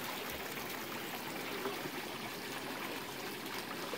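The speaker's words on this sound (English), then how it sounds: "The extra runoff from my main grow bed is directed to that tank." Water trickling steadily from an aquaponic grow bed's runoff into a sump tank, a faint, continuous splashing flow with no voices.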